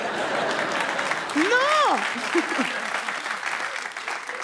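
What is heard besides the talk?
comedy audience applause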